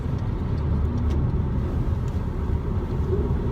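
Steady low rumble of a Mercedes E-Class AMG driving in Germany, engine and road noise heard from inside, constant and even throughout with no voices.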